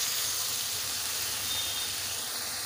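Ridge gourd, potato and poppy-seed curry with cashew and green chilli paste sizzles steadily in a pan as water is added, a continuous close hiss with no talking.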